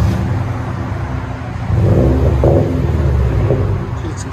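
A 2007 Subaru Legacy GT 2.5L turbo automatic with a Vibrant bottle resonator exhaust, a loud, close, clean low rumble that swells briefly in the middle and then settles back.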